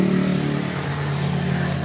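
A motorcycle engine revs loudly and steadily, its droning tone holding close for about two seconds with a low rumbling undertone and no talking.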